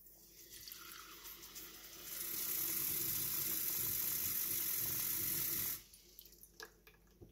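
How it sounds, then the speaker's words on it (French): Tap water pours into a drinking glass in one continuous rushing stream lasting about three and a half seconds, starting and stopping abruptly against a quiet room with faint clicks before and after. "Je vais donc procéder au remplissage du verre d'eau."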